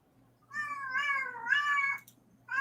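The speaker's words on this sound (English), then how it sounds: "The loudest cat." A cat meows loudly and insistently in two long, wavering cries, close to the microphone, with a faint low hum underneath.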